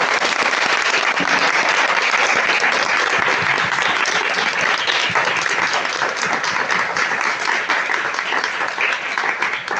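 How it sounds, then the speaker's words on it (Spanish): Warm, continuous applause from an audience after a talk on sexual violence against children, dense clapping that holds for nearly ten seconds and eases slightly toward the end. "Vamos a hacer un aplauso."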